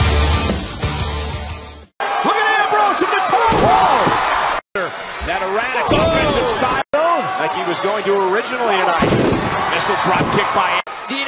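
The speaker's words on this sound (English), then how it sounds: "Becky Lynch delivering a drop" Heavy thuds ring out as a wrestler lands a missile dropkick from the top rope in a wrestling ring, loud impacts mixed with excited commentary and crowd noise.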